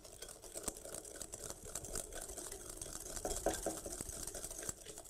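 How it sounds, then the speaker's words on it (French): Brown sugar is stirred and whisked into cookie dough in a bowl, giving a steady, busy run of close scraping and clinking strokes with no talking. "je vais venir bien mélanger"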